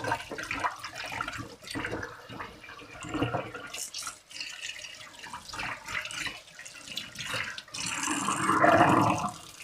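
Tap water running and splashing in bursts as cleaned parts from an old cordless drill are rinsed in a sink, with a louder gush near the end.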